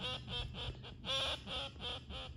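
Wild ducks call during a duck hunt on public land: a quick series of about eight nasal quacks in an uneven rhythm, faint and some distance away, with no talk.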